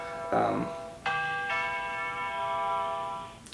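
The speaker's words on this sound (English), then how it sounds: "Our doorbell just rang." A doorbell chimes two tones, a short ding followed by a longer ringing dong that sustains and fades, fairly clear against a quiet room.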